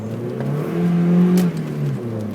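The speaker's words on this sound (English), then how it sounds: "Little rain drifting. Low power Miata." A low-power Mazda Miata with an open differential revs hard while drifting on a wet road near Jericho Beach, Vancouver, a close, loud engine drone rising to a peak midway and then easing back.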